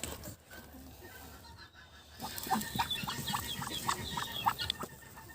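A brooding duck sitting on eggs gives a close series of soft, clucking calls that start after a quiet opening and repeat irregularly until the end.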